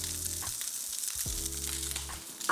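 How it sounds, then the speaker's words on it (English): Lamb mince with cumin and spices frying in a pan, a steady close crackling sizzle running throughout, with low humming tones underneath and no talk. "Lamb's starting to get some good colour on it, so I can add my spices and toast those now."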